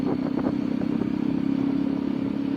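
A Jawa motorcycle rides through a Mysore market street, its engine holding a steady low drone with faint clatter and traffic around it, alone without talk.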